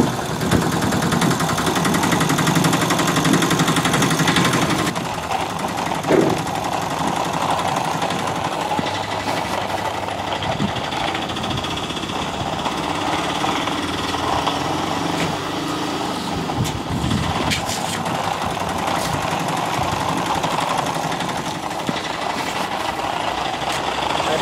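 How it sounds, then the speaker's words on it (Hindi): An auto rickshaw engine runs with a continuous loud, buzzing drone that holds steady throughout, with voices faintly present at times. "चलो ऑटो स्टार्ट करो,"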